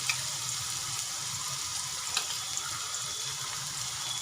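Green garlic and ginger-chilli paste frying in very hot oil, a steady close sizzle with faint crackles and no talk.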